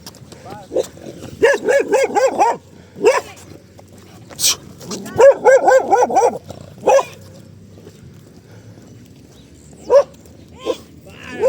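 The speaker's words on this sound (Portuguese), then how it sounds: "tomei um carreirão de um cachorro agora" Close, agitated dog barking in rapid clusters, interspersed with yips and a whimper, loud and near during an outdoor run, with a few quieter isolated barks toward the end.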